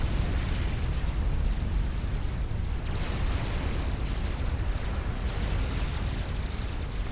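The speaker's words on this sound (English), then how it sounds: "Satellite firing from above" Orbital satellite strikes in the strategy game Supreme Commander produce a sustained, rumbling barrage of explosions, dense and continuous over several seconds with no voices heard.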